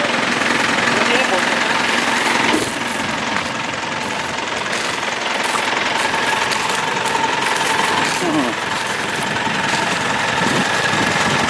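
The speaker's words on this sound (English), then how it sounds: "Excavator." An excavator engine runs at a steady idle near a fence, a low rumbling drone with some clanking, while people talk over it.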